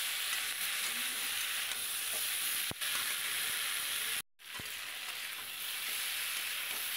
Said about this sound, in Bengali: আর একটু নেড়ে নেব।